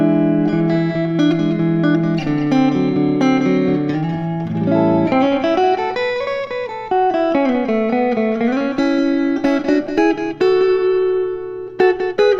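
Telecaster electric guitar played through its neck pickup with slapback delay: sustained clean notes and chords ring out continuously with sliding, bending melodic runs, loud and close, with no talking.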